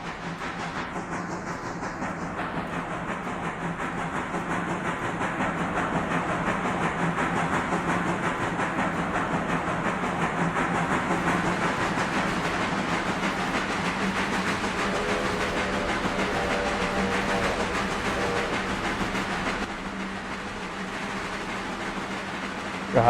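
Two powerful locomotives double-heading a train in the RailRoader game, a steady rumbling, clattering roll with hiss that holds loud and even for the whole stretch, easing slightly near the end.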